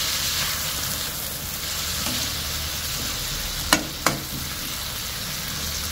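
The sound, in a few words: onion, garlic and tomato sautéing in a pan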